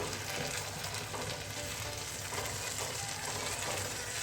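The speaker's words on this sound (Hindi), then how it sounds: "इसको हम 2-3 मिनट के लिए इसके साथ भूनेंगे, ताकि छोलों के अंदर अच्छा सा मसालों का और हर चीज़ का जायका आ जाए" Chickpeas (chole) frying with spices in a pan, giving a steady, dense sizzle that runs throughout at close range, with faint stirring scrapes and no talking.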